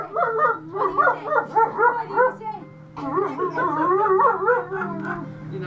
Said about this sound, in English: We have the two real dogs, Tiesto and Claire.